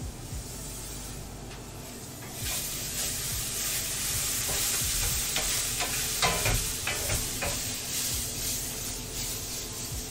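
Onions fry in a hot pan with a steady broadband sizzle, and scattered scrapes and clicks come from stirring them. The sizzling gets louder after a few seconds and stays up close throughout, with no talking.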